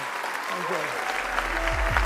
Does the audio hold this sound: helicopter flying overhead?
no